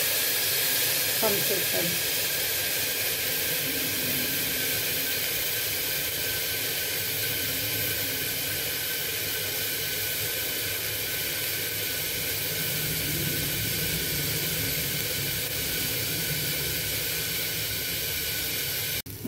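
Vegetables for khichdi sizzle in a pot over low heat after a little water goes in, a loud, even hiss that holds the whole time, with a voice speaking briefly over it.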